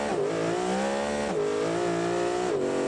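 A drag car launching in the BeamNG driving game, its engine revving hard with rising pitch through repeated gear shifts, loud and continuous, close to the listener.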